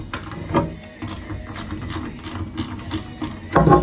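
A ratchet wrench loosening a nut on trolling motor rigging, a close run of rapid mechanical clicks with a louder clatter at the end.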